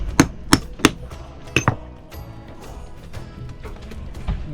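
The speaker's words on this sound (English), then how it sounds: "Hammer that down." Several sharp hammer strikes on small jeans-style rivets ring out close by, three quick blows, then two more, followed by fainter taps and light clatter.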